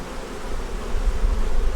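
Honeybees buzz steadily at a hive that is full of honey, pollen and brood space. A dense, continuous close drone carries on with no talk over it.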